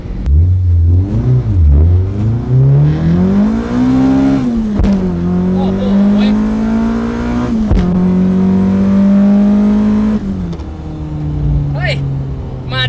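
A Honda Civic EK coupe with a B18/B20 engine idles, then revs up and down repeatedly with smooth rising and falling pitch, loud and close, with a couple of sharp clicks.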